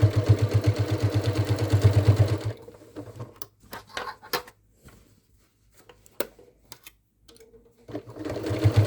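Sewing machine stitching a Halloween witch hat: a loud, fast mechanical run at the start, then short bursts of stitching separated by quiet pauses and small clicks, with a final run resuming at the end.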